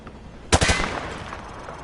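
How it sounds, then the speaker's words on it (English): Firing from the hip in Modern Warfare 2 Remastered: a short, loud burst of several rapid automatic gunshots, up close, with a ringing tail fading afterward. "He sprayed bullets all over the damn place."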